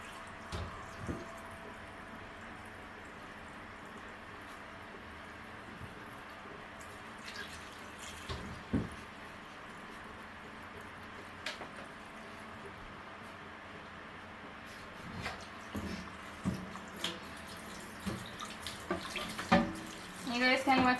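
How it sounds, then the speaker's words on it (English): Tap water runs into a cooking pot while salt mackerel run down is prepared, a low, fairly faint continuous flow broken by occasional clanks and splashes near the end, with no one speaking. "So I'm just going to get some water in here"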